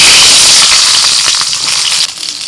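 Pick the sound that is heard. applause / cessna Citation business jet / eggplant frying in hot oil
eggplant frying in hot oil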